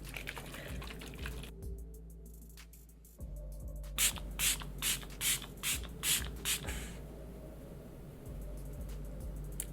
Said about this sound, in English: the Milk Makeup Hydo Grip Set and Refresh